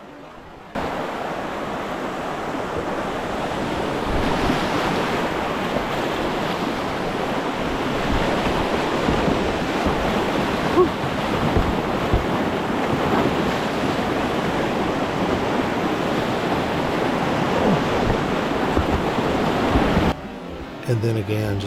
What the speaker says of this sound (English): just this white water